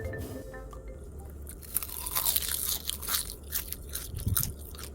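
Crisp, dry crunching of seasoned laver flakes made from gopchang gim seaweed in quick irregular bursts, close to the microphone, with a low steady hum underneath and no talking.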